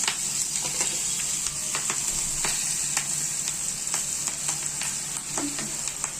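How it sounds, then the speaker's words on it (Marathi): Cumin seeds and asafoetida crackle in hot oil as a tempering for dhokla, a loud, close, steady sizzle with sharp popping ticks scattered throughout, no voices. "आता ही फोडणी आपण छान कडक फोडणी तयार केलेली आहे ना"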